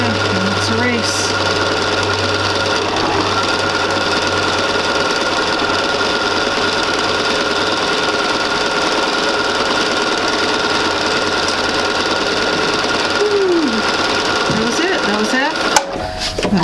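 A sewing machine stitching seams on a sampler quilt block runs in a steady, fast mechanical whir and rattle for nearly the whole stretch, close and prominent, then stops with a click near the end.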